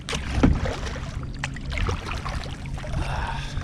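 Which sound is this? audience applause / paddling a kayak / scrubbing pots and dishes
paddling a kayak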